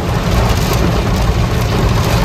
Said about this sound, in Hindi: ये तगड़ी बारिश हो रही है भाई, तेज बारिश हो रही है बहुत